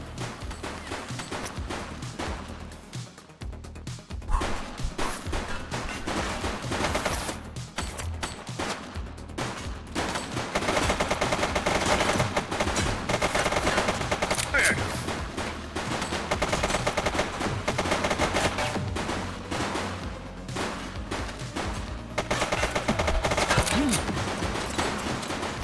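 Sustained gunfire rattles through a shootout in the police game The Precinct, dense bursts of shots and automatic fire crackling almost continuously for over twenty seconds, moderately loud with occasional short pauses.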